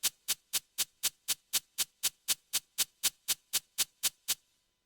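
A crisp shaker-like cabasa pattern from an 80s pop kit on a Yamaha keyboard, evenly quantized, sounding as about eighteen sharp bright strokes in a steady rhythm, alone and close, then stopping.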